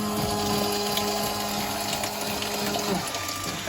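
Crane Voce coffee machine flushing water through its system during reassembly after a strip-down, a steady pumping rush of water with a mechanical hum that drops away near the end.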